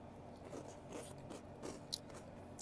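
Crunchy Konu snack, compared to a softer Moby-style puffed treat, bitten and chewed close up in a few brief crisp crunches over quiet, with two sharper bites near the end.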